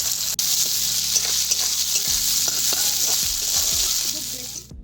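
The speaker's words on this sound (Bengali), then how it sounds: "আমরা এখানে পেঁয়াজটাকে বেশি কড়া করব না হালকাভাবে ভেজে নেব" Chopped onion frying lightly in oil left from frying small fish for a fish curry, a steady, loud, dense sizzle that carries on without a break, with faint scraping stirs scattered through it and no voices.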